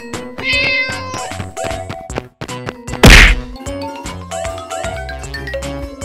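A cat meows amid a busy, cartoonish game soundtrack of chimes and tonal melody, with a loud whack-like hit cutting through the middle; no talking.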